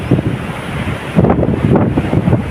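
Sea waves wash in under gusty wind by the shore in the late afternoon, a continuous rushing surf with heavy wind buffeting the microphone, loud and close, without any talking.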